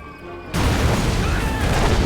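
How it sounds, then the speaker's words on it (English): Heavy explosions from a Sentry bomber's bombing run in the strategy game Red Alert 3. A quieter stretch gives way to a sudden loud, dense rumble of blasts that keeps going at full volume to the end. "that was a great bombing run"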